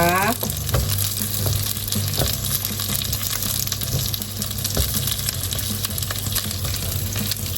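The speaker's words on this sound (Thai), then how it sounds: "ผัดหอมหัวใหญ่ให้สุกก่อนนะคะ" Onions stir-frying in a hot pan, a steady loud sizzle that runs throughout with a few sharp clinks of a utensil against the pan and a low background hum, no talking.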